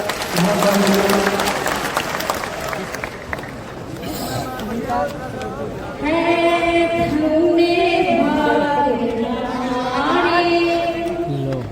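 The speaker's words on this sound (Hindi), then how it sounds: "स्वर्णलता साहब जी के लिए ताली बजाकर" An audience in a Patna auditorium applauds at a Jan Suraaj political gathering, with steady clapping under ongoing amplified speech and chanting voices. The sound is loud and continuous throughout.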